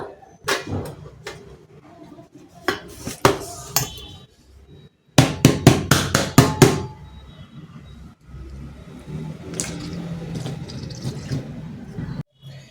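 Metal spatula loosening the edges of set colostrum milk pudding (ginnu) and cutting it in a pan, heard as close, irregular sharp taps, knocks and scrapes that come in quick clusters, with no talking.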